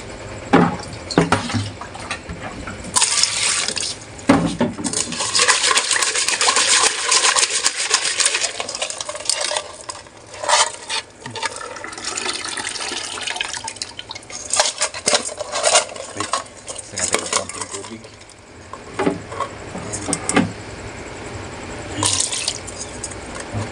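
Five damuko fish rinsed in a sink under a running tap, with steady splashing water punctuated by clinks of a metal bowl or dish being handled, continuous and close, no talking.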